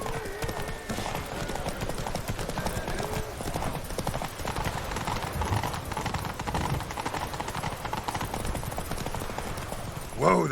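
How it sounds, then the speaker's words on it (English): Horse hooves clip-clopping steadily at close range in The Witcher 3, a continuous trotting rhythm over game ambience, ending with a brief louder burst. "Whoa there, Roach."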